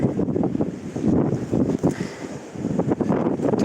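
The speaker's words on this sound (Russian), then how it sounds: "какой тут ветер, а" Strong seaside wind buffets the microphone in heavy, uneven low rumbles and gusts on a walk through a seaside park in Yalta. It stays loud and close throughout, with no talk over it.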